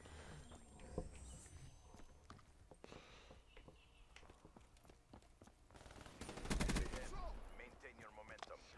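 Gunfire from Call of Duty Black Ops 3 multiplayer on the Eclipse DLC map: scattered sharp shots and short bursts with a heavier flurry near the end, under a player's voice talking.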